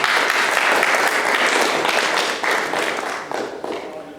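A crowd applauds steadily, dense clapping holding strong before gradually thinning and fading toward the end.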